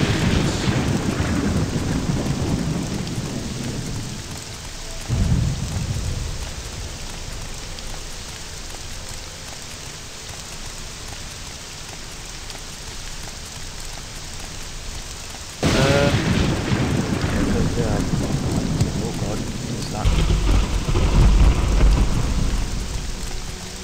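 Steady heavy rain pours in the game Morrowind while thunder rolls in low and loud, with a sharp crack and renewed downpour near the middle and deeper rumbling toward the end.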